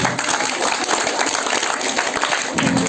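A crowd at an Independence Day games event in Morigaon claps for the winning team, a brief burst of dense, steady applause lasting about three seconds.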